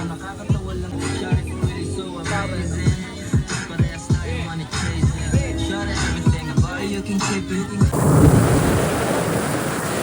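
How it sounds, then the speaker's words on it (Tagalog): Heavy rain and thunder strike over an outdoor street-food stall. Deep rumbling thumps roll repeatedly, then give way to a dense, steady wash of pouring rain. "Yo, inaabot na naman kami dito ng ulan."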